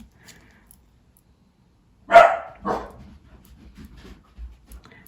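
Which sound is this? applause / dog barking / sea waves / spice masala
dog barking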